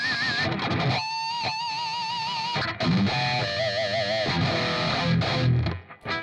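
Distorted electric guitar rings out bell-like harmonics, with sustained wavering overtones over a gritty, fuzzy tone.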